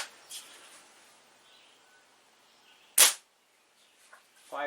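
A Crosman Phoenix air rifle fires 5.5 grain pellets with one sharp, loud crack near the middle. Quiet background and a few faint clicks surround it.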